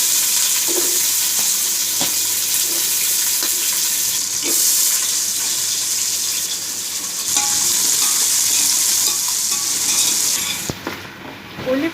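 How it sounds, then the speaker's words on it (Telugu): Onions frying in a pan for chicken biryani, a loud continuous hiss and crackle close up, with occasional clicks of stirring and a brief change in the sizzle near the end. "ఉల్లిపాయలు వేసేస్తున్నానండి."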